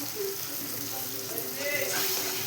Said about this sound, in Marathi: पूर्ण शिजेपर्यंत त्याला हलवून घेत राहायचं आहे